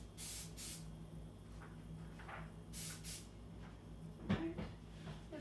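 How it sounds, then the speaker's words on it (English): Short hissing bursts from an aerosol can of spray adhesive, misted lightly onto a photo graphic for a custom graduation frisbee fan, a few quick puffs in a quiet room with a small knock near the end. "you want to spray your graphic lightly, mist it"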